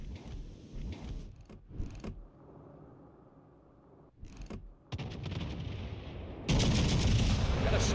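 Warship guns fire in the World of Warships Legends battle, heard as a few heavy booms and loud rumbling salvos with a sustained roar building toward the end, no one speaking.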